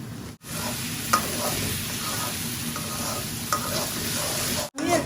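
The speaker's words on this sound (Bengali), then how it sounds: "তো এইরকম লাড়াচাড়া করিয়ে আমি দেখি 5 মিনিট বাদে আপনার সাথে আমি শেয়ার করাম" Dried kechki fish stirred and fried in a pan at home, giving a steady close sizzle with scraping spatula strokes throughout and two brief breaks in the sound.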